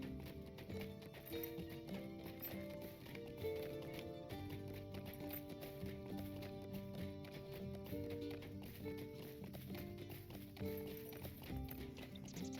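Horse mount galloping in the Lord of the Rings Online video game, a steady rapid clip-clop of hooves running continuously with game music layered underneath and an occasional whinny.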